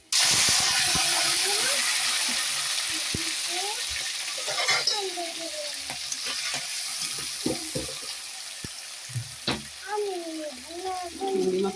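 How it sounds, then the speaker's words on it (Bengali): Prawns frying in hot oil seasoned with five-spice, a loud hiss at the start that settles into a steady sizzle, with spatula clatter and knocks and a voice talking over it. "এই তেলে চিংড়ি মাছটাই দিয়ে দেবো।"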